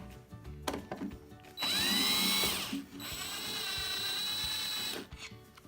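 A power drill backs screws out of a DeWalt DW734 planer, with several bursts of close, loud whirring of a few seconds each, separated by brief pauses and small mechanical clicks.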